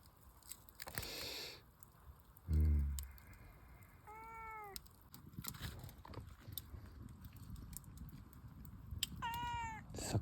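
Two hungry cats by a campfire at a solo campsite give a few distinct meows spread across the clip, close and clear, along with soft crackling and handling noises at a quiet outdoor spot.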